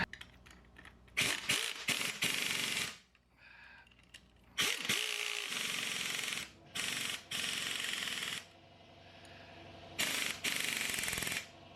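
Strut bolts being tightened on a Bad Boy Buggy with a ratcheting tool, loud close bursts of rapid clicking separated by short pauses, repeated several times with no voices.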